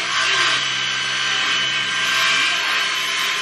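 Wood is cut with a power saw during a small utility room makeover, a steady loud whine that holds for the whole stretch without a break.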